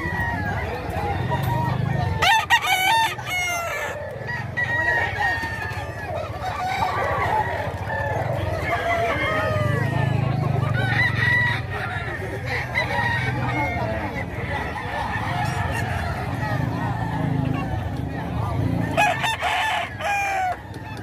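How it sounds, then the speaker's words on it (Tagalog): Several gamecocks crow at intervals over continuous clucking and chatter from a yard full of chickens in Bocaue, Bulacan, close and loud. "Manok ni Boss John"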